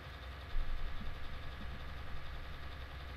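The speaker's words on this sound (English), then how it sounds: "We'll make the first round with this tractor" Low, steady rumble of a tractor engine in Farming Simulator 19, running at a constant pace in a field worked for strip tillage, moderately loud with a slight surge early on and no speech.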